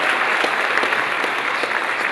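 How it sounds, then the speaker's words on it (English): An audience at a memorial wall unveiling claps in dense, sustained applause, an even, close roar of many hands with no pause throughout. "I want to give you a round of applause."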